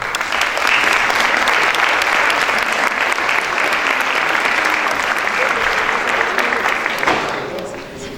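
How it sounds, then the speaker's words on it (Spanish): Steady audience applause at an architecture school conversatorio honoring Dr. Elisa, dense and continuous for several seconds before tapering off at the end. "Le damos un aplauso a la doctora Elisa"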